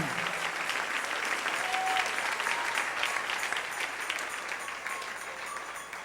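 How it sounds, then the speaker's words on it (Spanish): Church congregation applauding during a morning service, steady, dense clapping from many people filling the room throughout, fairly distant and even. "Dale ese aplauso al Señor con todo su corazón"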